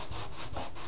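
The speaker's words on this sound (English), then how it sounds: "I'm just going to sand the bottom of these a little" Hand sanding the bottom edge of a City Classics service station model kit part with 240 grit sandpaper, making a rapid rhythmic scratching of about four close back-and-forth strokes.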